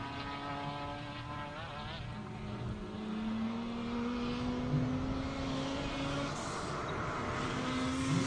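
A BMW race car climbs the Simola hillclimb course, its engine note holding a strained tone and slowly rising in pitch as it pulls uphill, heard from a moderate distance with no voices.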